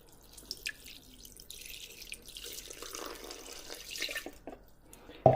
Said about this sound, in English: And you want 10 ounces of water.